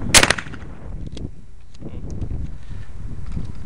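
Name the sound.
gunshot, shooting at targets outdoors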